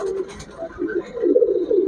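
Domestic pigeons sold as breeding pairs coo in low, rolling phrases close by, growing louder toward the end, with a faint voice in the background.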